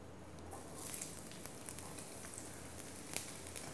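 Chopped onions frying in oil for a squid curry give a soft, steady sizzle with scattered light crackles and pops, faint and close, with no voices.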